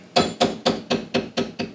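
Seven evenly spaced taps of a mallet striking a leather tooling tool while burnishing a flower leaf, crisp and close with short decays, steady rhythm, no voices.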